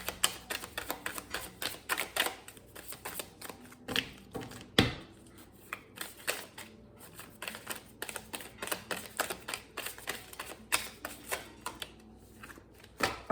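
Tarot cards shuffled and dealt by hand during a reading, a fast run of crisp flicks, slaps and riffles that come in bursts close up, with brief pauses and no talking.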